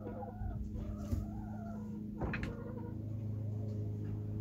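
A hen clucks inside a coop in soft, close, drawn-out murmurs over a steady low background hum, with one brief sharper sound partway through.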